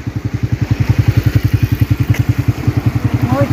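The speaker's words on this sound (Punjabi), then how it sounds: "ਮੋਟਰਸਾਈਕਲ ਇਧਰ" A motorcycle engine runs close by on a stony path beside a fast mountain stream in Kashmir, its rapid, steady pulsing throb holding for several seconds and swelling slightly toward the end.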